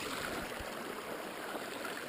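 Creek water flows at Pass Creek near Cady Pass on the Pacific Crest Trail, a quiet steady rushing wash that continues evenly throughout with no voices.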